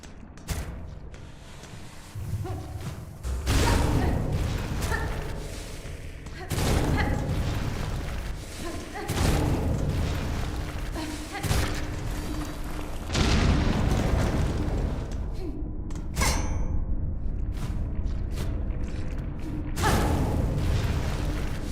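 Drawn-out explosion in Hollow Knight: Silksong, a series of heavy booming bursts and mechanical clatter rolling on for about twenty seconds at steady loudness, with no speech.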